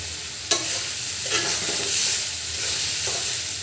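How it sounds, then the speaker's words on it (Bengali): Beef tripe fries in a pan with a loud, constant sizzle while a utensil stirs and scrapes it in a few distinct strokes, with no one speaking. "আমি ভাজা ভাজা করে নিচ্ছি"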